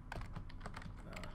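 Rapid typing on a computer keyboard, a quick uneven run of clicking keystrokes, close and fairly quiet, alone without speech.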